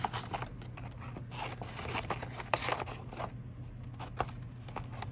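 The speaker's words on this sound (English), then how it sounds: "So I'm gonna cut out the word trust." Paper being cut with scissors, the word "trust" snipped from a Rolodex card for an art assemblage, heard as close, steady snipping and rustling strokes.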